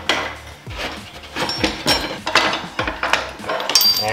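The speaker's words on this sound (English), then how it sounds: "And from here, I'm gonna push the axle out a little bit." A rear axle is pushed out of a Yamaha YZF-R6 wheel, giving a close series of metallic scrapes, knocks and ratchety rubbing in uneven bursts, with no voices.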